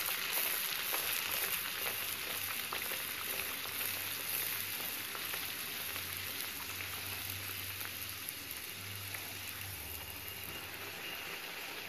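Stuffed vegetable samosas deep-fry in oil on a low flame, a soft, even bubbling sizzle that runs steadily throughout without any talk.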